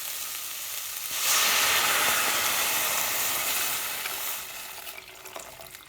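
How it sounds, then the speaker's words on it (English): Boiling water poured into a pot of softened onion and leek for vegetable soup makes a loud hissing sizzle and rush that swells after the first second, then fades to lighter bubbling. "what I'm going to do now is add in boiling water"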